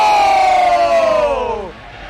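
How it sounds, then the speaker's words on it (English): An esports arena crowd roars as Team Liquid walk onto the stage at an I-League event, a loud sustained cheer that swells then falls away after under two seconds. "People are cheering Liquid right now"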